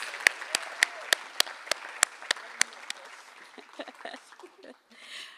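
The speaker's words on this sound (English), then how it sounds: "Let's give her a round of applause." Scattered applause from a poetry festival audience, with a few sharp claps standing out early before the clapping thins and fades near the end.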